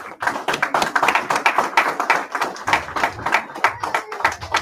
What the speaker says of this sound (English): All right, y'all clap it up.